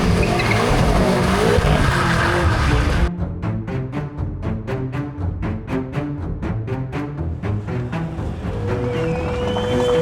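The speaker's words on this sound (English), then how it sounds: "We're driving on a racetrack." A 37-year-old BMW driven on a racetrack in South Africa, loud and close, with tires squealing and skidding and the engine roaring, then a rapid run of sharp rhythmic clicks and pops as it goes on.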